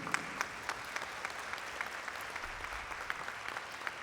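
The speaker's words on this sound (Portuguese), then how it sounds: "Muito obrigada, mais uma vez, uma salva de palmas." A faint, distant audience at a Brazilian industry innovation congress applauds steadily, with a few sharper individual claps standing out from the soft, continuous patter.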